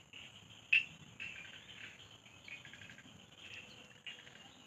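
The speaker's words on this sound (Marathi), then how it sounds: "किडे बिडे कसे आवाज येतात" Crickets and insects chirp steadily in high, thin trills, with a few brief sharper chirps, quiet and outdoors, no talking.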